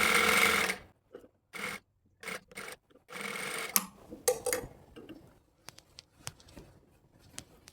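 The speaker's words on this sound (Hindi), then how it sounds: "चाहें तो यहाँ पर डबल सिलाई लगा लें।" A sewing machine stitches a shirt sleeve, with bursts of whirring running broken by pauses, then lighter intermittent ticking and clicking toward the end.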